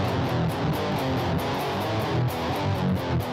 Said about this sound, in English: Metal distortion.